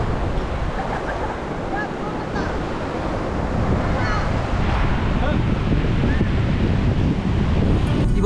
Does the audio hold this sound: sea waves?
yes